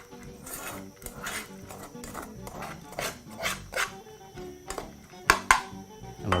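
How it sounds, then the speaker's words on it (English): A spoon scrapes and taps through cooked vegetable rice in a pan, with irregular gentle rasps and metallic clinks, close and moderately quiet. "using a spoon, just begin to break up your rice in the pan very"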